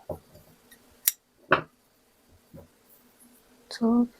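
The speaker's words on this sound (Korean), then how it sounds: "꼬리실을 잘라주세요" Scissors snip the tail yarn of a child's knitted round-neck vest, a few sharp, brief cuts and light handling rustles separated by quiet pauses, close and fairly soft.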